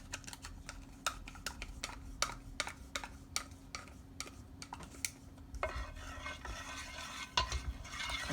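A spoon beats a salted, mustard-seasoned mixture for a broccoli-shrimp lasagna in a bowl, with rapid clicking strokes that run together into continuous mixing, close by and with no speech.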